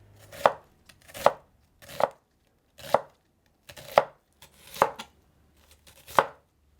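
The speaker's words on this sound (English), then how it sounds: "Cut the onion in thin slices." A knife slices an onion thinly on a cutting board, with seven crisp, evenly spaced chops heard up close against a quiet background.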